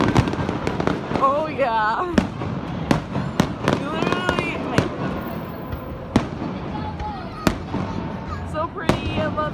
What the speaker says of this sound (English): We're in Hawaii and there's fireworks.